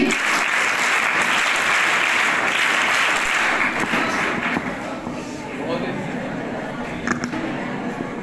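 A crowd claps together at a Diwali cultural program after a devotional song, a thick, loud wash of applause that holds steady, then thins a little in the second half with murmuring voices mixed in.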